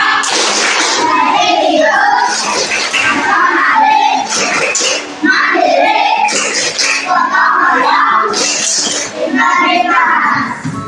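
A classroom of children stands and performs the tepuk PPK clapping chant, with rhythmic hand claps mixed into loud, close group voices chanting in a repeating pattern throughout.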